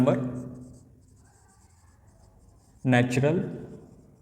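Chalk or marker writes on a board during a maths lesson, a faint scratchy scraping running beneath a teacher's speech that starts and resumes around it.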